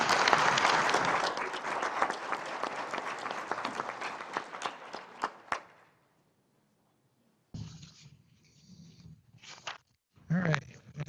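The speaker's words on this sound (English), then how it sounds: "Let's give Big Surf a round of applause." An audience at a council meeting applauds, a dense burst of clapping that lasts several seconds and fades out, then a pause before footsteps, shuffling and murmuring voices nearby.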